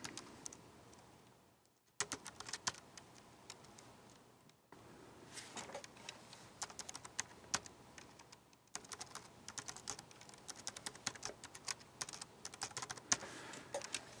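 Fingers type on a computer keyboard while filling in an account registration form, quiet close key clicks coming in quick irregular bursts with brief pauses between them.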